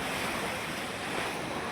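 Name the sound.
sea waves breaking at Gomti Ghat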